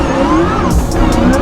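An off-road race car, either a Can-Am Maverick R or a built Corvette, roars loud and close at launch, its engine note rising steadily as it pulls away on a dirt course.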